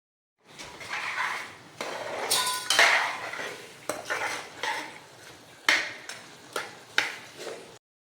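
Metal pot lid and utensils clinking on a pot of Kerala-style pork curry, a series of sharp clangs and scrapes, close and fairly loud, with no talking.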